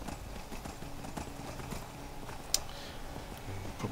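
A horse bought in Riften trots along in the video game Skyrim, steady rhythmic hoof clip-clops close up over a quiet outdoor ambience, with one sharp click partway through.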